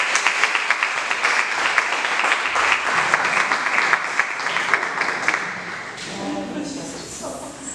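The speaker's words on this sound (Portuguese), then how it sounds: "Palmas que exaltam Jesus" A church congregation at a Bible study claps in praise of Jesus, strong sustained applause that rolls for several seconds before easing, with voices and shuffling rising as it tapers.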